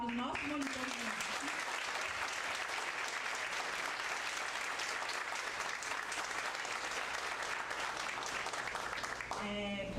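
Warm, sustained applause from an audience at a university accounting lecture, dense continuous clapping lasting about nine seconds, with a voice briefly heard at the start and end.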